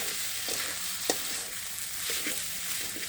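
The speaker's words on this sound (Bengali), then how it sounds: "এখন এটাকে ভালোভাবে নেড়ে চেড়ে আমরা নামিয়ে ফেলব" Spiced noodles being stirred in a pan, with soft intermittent scraping strokes over a steady faint sizzle of frying in the background.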